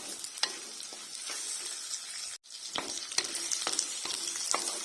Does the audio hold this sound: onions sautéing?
yes